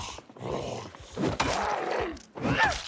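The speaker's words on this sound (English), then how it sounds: "Just heard the growling." Creature growling in the video game Escape from Tarkov, with low, rough groans and snarls rising and falling over several seconds, fairly close and loud, and no talk over them.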